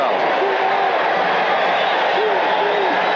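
Football stadium crowd of nearly 50,000 roaring loudly and continuously, with scattered whistles and whoops poking through and a commentator's voice over the din.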